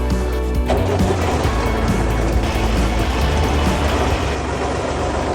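Tractor engine running as it drives a Remet drum wood chipper with conveyor, a loud steady low rumble with broadband machine noise that swells after the first second, close and continuous.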